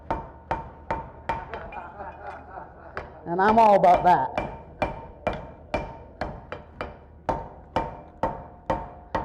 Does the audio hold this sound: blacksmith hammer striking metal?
yes